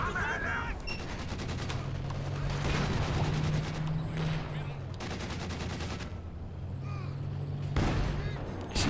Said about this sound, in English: Su-76 bouncing 2 shots in a row there.